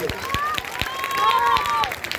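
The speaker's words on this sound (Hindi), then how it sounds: "ताली बजा के स्वागत करिए एक बार जोरदार आप सभी लोग" An audience at an Indian village public event claps to welcome an MLA, a steady patter of many hands in a short burst, with crowd voices and chatter mixed in.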